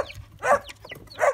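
A small dog gives two short, sharp barks about a second apart, close by, outdoors near chicks and olive trees.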